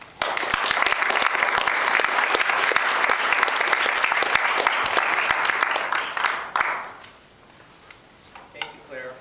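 Audience at a poetry reading applauding to welcome poet Campbell McGrath, dense clapping for about six seconds that then thins to a few scattered claps and quiet room noise.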